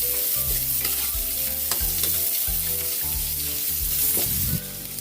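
Onion goes into a hot frying pan and is stirred with rhythmic scraping strokes over a strong, continuous sizzle. A low, pulsing hum sits underneath.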